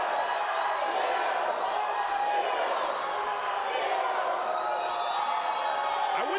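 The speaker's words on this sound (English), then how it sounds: "We're hearing Utah Tech chants here." Fans chant for Utah Tech in an excited crowd at the 2022 DUPR collegiate national pickleball championship, a steady roar of voices with whoops and cheers, heard at a distance.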